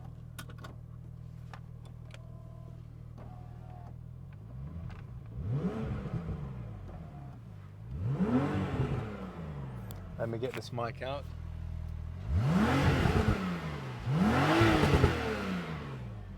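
A Porsche 911 991.2 engine revs repeatedly through its exhaust, rising and falling in loud bursts nearby, with a short spoken remark partway through.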